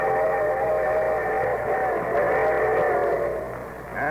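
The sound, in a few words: train whistle sound effect on radio show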